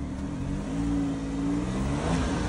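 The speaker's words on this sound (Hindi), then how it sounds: "सो मैंने अपनी मॉम की कार में एक स्पोर्ट्स एग्जॉस्ट इंस्टॉल किया है" A car fitted with an aftermarket sports exhaust revs steadily and loudly up close, its deep engine drone rising and falling in pitch over a couple of seconds with no talk.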